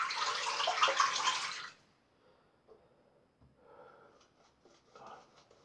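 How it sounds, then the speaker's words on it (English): Water runs from a tap into a bathroom sink for shaving lather, a loud hissing stream for under two seconds, then stops, followed by faint knocks and softer splashes. "I'm going to put some water in the sink."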